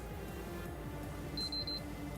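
A PlayStation console's internal speaker gives a short high beep, a few quick pulses, against a steady low hum of background noise.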